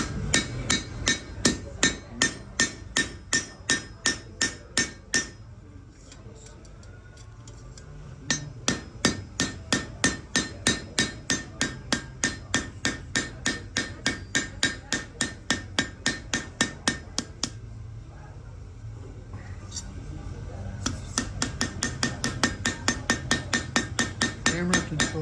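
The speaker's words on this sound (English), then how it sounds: "One thing about blacksmithing is the ability to control your hammer." A blacksmith hammers metal at an antique engine and tractor show. The strikes ring out in a steady, fast rhythm and break off in two short pauses before resuming, close and clear, with no talk.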